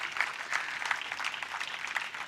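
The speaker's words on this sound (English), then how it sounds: "So please, a big round of applause for Getz Pharma." Audience applause at a festival closing ceremony, a steady crowd of hands clapping at moderate distance for a couple of seconds, with no voices over it.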